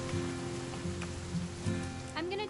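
Steady rain falls in the video game What Remains of Edith Finch, a constant hiss of drops throughout with a faint tonal musical layer beneath.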